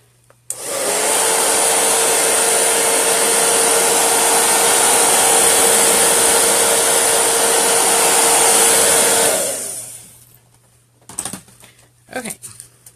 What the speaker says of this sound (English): I'm going to dry it real quick before I add this last color